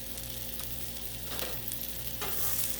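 Bacon sizzles on a hot Blackstone griddle, a steady close crackling hiss over a low hum, with a couple of brief louder bursts of spatter near the middle and the end.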